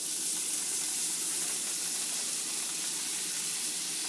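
Onion tops from last year's garden saute in a pan with a soft, steady sizzle and hiss that stays faint and even throughout, with no voices.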